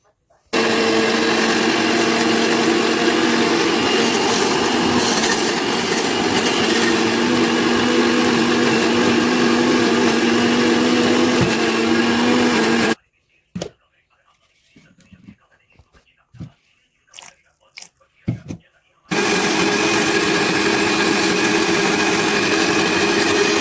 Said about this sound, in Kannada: ಈಗ ಹುರಿದಿರೋ ಎಲ್ಲ ಮಿಕ್ಸಿ ಮಾಡಿಕೊಂಡ್ರೆ